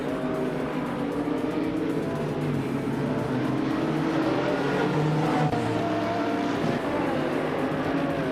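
A pack of racing car engines, including a 2003 Ferrari 360, roaring at the start of a race at Blackwood GP Reverse in a racing game, a dense, continuous revving drone, loud and steady with no talk.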